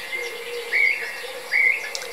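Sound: birds singing at dawn near a sea eagle nest

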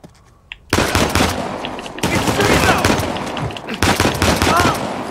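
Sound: gunfire in Uncharted The Lost Legacy video game

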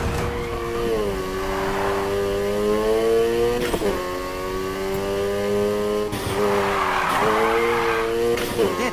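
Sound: car drifting with tire skid in the video game Need for Speed Heat

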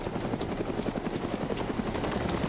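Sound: helicopter flying in video game DayZ Origins

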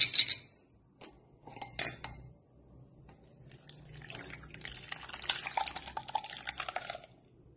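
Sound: straining heated curdled milk

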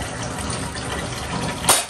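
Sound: water being poured into a plant

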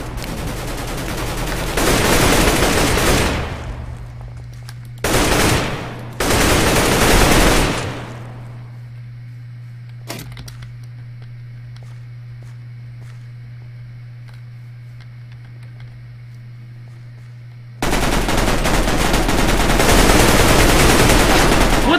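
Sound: AK-47 gunfire in video game Mineplex Minestrike

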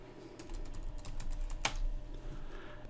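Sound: typing a password on a computer keyboard

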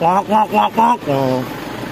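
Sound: voice imitating a car starter motor

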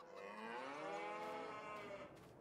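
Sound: cattle mooing in the video game Farming Simulator 22

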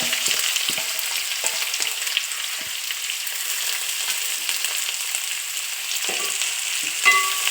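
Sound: onions and curry leaves frying in a pan

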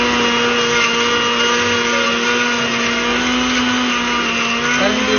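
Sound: blender running

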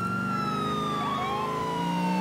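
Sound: police car sirens in video game GTA IV

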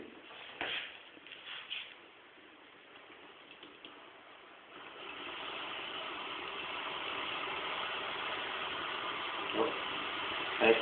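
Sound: Newman motor replica spinning, powered by four 9-volt batteries

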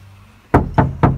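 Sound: knocking on a KIA Optima door panel, drum-like

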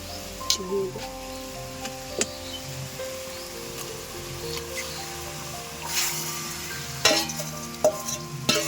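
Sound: marinated chicken being stirred and fried with onions

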